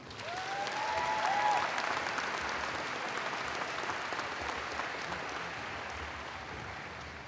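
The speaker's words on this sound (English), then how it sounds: "Please give them a big round of applause" Applause from a large audience at a high school graduation ceremony, a broad, even wash of clapping that swells early and then holds steady, heard at a moderate distance in a big hall.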